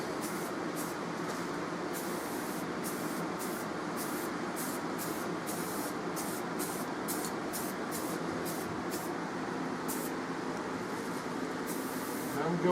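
Repeated bursts of spray paint putting a black base coat onto a pool noodle, a steady hiss broken by short pauses between passes, close and fairly loud with no talk.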